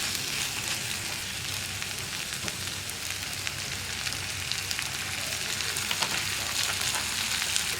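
Sliced okra frying in coconut oil in a pan for an egg thoran, giving a steady close sizzle with scattered crackles and light stirring scrapes throughout.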